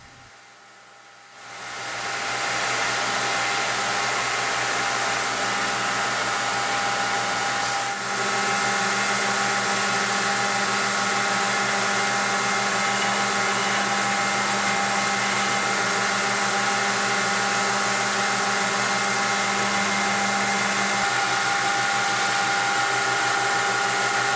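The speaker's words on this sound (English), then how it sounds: "now I'll profile the handle on the grinder and clean up all my lines" A power grinder profiling a camp knife handle runs steadily after a brief quiet start, a loud continuous mechanical whine with a faint ratcheting texture.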